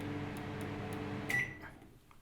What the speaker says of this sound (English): it will only make a single short beep